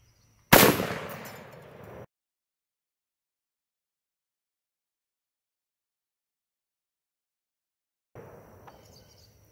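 A single loud, sharp blast from a 12-gauge shotgun firing a Firequest Pitbull round at a mirror target, decaying over about a second and a half before dead silence, followed later by faint outdoor noise.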